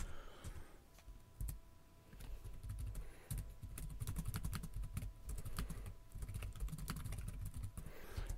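A test email being typed on a computer keyboard: quiet, rapid key clicks in an uneven stream with brief pauses, heard alone.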